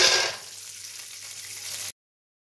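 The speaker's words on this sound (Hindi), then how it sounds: "तो अब ले लेंगे पैन, इसमें थोड़ा सा ऑयल डाल देंगे। अब डाल देंगे बादाम।" Almonds sizzle in a little hot oil in a pan, a bright crackling burst at first settling into a steady close frying hiss before cutting off abruptly.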